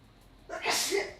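A single sharp sneeze close to the microphone that breaks a near-silent room, bursting suddenly and fading within under a second.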